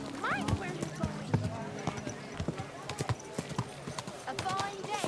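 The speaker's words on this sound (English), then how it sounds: "Your horse nearly trampled me." Horse hooves clip-clop in a steady rhythm nearby, with voices talking over the hoofbeats.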